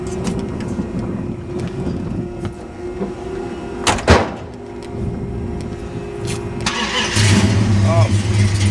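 The Bull Run General Lee stunt car's engine cranks and fires up on set, a loud mechanical burst followed by a settling idle, with a door clunk and people talking nearby.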